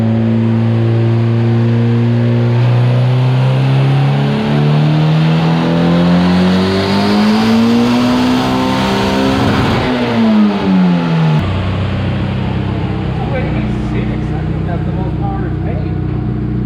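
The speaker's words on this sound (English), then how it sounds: "Zombie CRX on the dyno here" A Honda CRX converted from DPFI to multi-point injection revs hard on a dyno, its engine tone climbing steadily for about ten seconds before abruptly dropping back to a lower, rougher idle-like drone.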